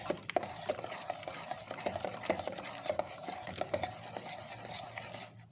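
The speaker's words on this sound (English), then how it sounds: "And give it a stir." A rose water skin cream mixture is stirred in a bowl, with a steady run of close, scraping and clinking strokes of utensil against container, moderately loud and continuous, with no talking.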